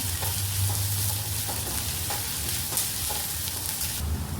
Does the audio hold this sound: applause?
no